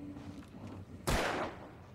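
A single loud gunshot from a handgun in the horror game Alan Wake Remastered cracks out sharply against a quiet, droning background, then decays over roughly half a second.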